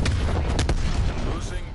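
Artillery strikes in Black Ops Cold War multiplayer land as a couple of heavy, booming blasts over a continuous rumbling battle din.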